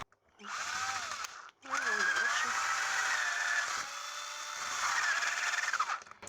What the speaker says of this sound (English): now let's just drill into the wood